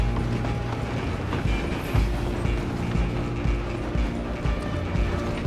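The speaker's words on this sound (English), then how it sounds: "I'm gonna ride ahead and stop the train." Train rolling along rails in the Red Dead Redemption 2 game, a steady loud mechanical rumble with rhythmic clanking and rattling throughout, no talk.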